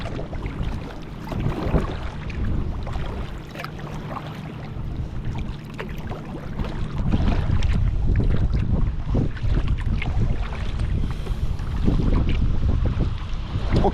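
Wind buffeting a solo sea kayak off the Isle of Kerrera on the west coast of Scotland, a steady roar of gusts and water slap that swells louder in the second half, with no voices.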